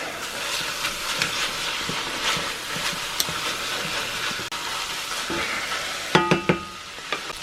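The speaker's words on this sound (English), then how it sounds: "Get this meat mixture stir" A meat mixture being stirred in a cast iron pot for chuckwagon beans, giving a steady close scraping and sizzling texture with a few sharper clinks of the utensil near the end.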